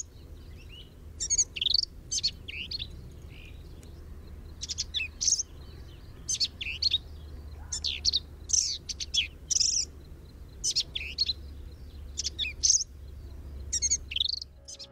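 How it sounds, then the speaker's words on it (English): Black-capped vireo song at a nesting site at Fort Hood: bursts of rapid, varied chirping warbles repeated every second or so over fifteen seconds, fairly close and clear above a low steady background hum. "And this is what a black-capped vireo song sounds like."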